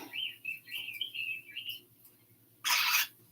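Birdsong played from a video: a run of high chirps and whistled notes, moderately loud and near, followed by a short burst of noisy hiss at the end.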